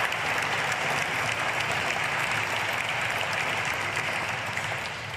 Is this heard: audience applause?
yes